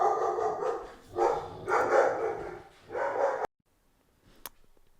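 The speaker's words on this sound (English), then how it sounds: "Apologies, my dog kicked off again." A pet dog barks in a run of loud, close bursts indoors, then falls quiet with one faint sound after.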